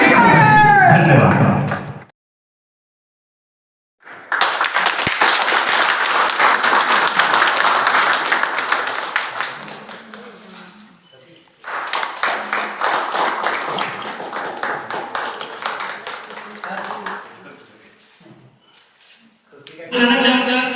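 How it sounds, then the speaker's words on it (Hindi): A crowd applauding at a Chhattisgarhi film launch ceremony, with two long stretches of loud, dense clapping separated by brief silence and a voice heard at the start and end. "हमारे सीजे नरेश भैया लोग के लिए, जितने आर्टिस्ट आए सबके लिए जोरदार ताली"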